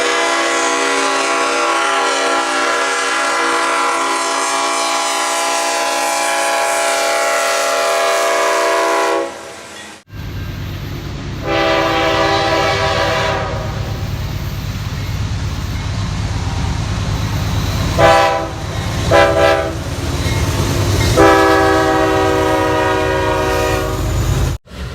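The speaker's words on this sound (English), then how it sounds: "The CSX Dash 8s were equipped with the K5H, RS5T, and K5LA train horns." CSX Dash 8 locomotive horns, K5H, RS5T and K5LA types, sound in loud sustained chords, a long blast followed by a series of shorter blasts, over the rumble and clatter of a passing train.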